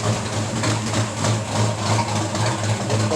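A Chevy 383 stroker V8 built on a 400 block with a 350 crankshaft idles just after a cold start, with a steady, loud low rumble and an uneven, loping pulse close by. No one speaks.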